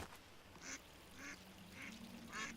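Ducks quack at a duck pond in the video game A Hero's Call, four short separate bursts spaced evenly over a steady low hum, moderately loud and with no voices.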